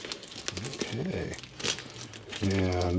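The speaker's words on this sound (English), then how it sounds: "the tape is coming off beautifully" Repair tape peeled off a patched hole on a Loa Zephyr Mid hiking boot, giving crinkly, tearing rustles at close range while a person talks over it.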